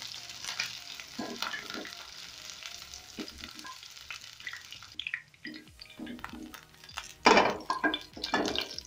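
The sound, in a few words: goat meat frying to a brown coating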